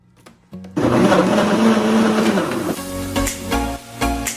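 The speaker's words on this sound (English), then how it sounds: "we're gonna be blending all this together" A blender whirs loudly as it purees garlic and seasoning ingredients for a steamed fish rub, starting after a short clatter and ending in uneven pulsing bursts.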